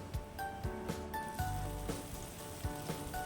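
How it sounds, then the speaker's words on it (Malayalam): Onions sizzle and fry in hot oil as kappa (tapioca) is prepared, a steady close crackle broken by soft clinks and stirring taps. "ഉള്ളി നന്നായിട്ട് മൂത്തൊക്കെ വരുന്നുണ്ട്."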